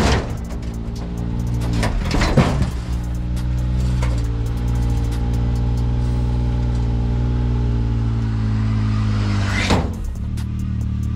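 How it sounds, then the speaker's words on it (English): A Can-Am Maverick X3 side-by-side engine idles and rumbles steadily up close as the machine drives onto an Aluma tilt trailer, with brief revs near the start and again near the end. "let me get the Can-Am on here and show you guys how it goes on"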